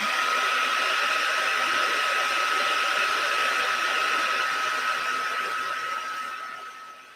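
A heat embossing tool blows a steady, close, hairdryer-like hiss with a thin whine while heating embossing powder on a card, running evenly and then tapering off as it is switched off.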